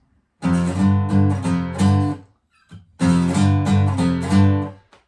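Two bursts of a distorted electric guitar playing a chunky power chord riff, loud and close, separated by a brief pause.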